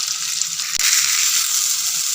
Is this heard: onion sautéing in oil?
yes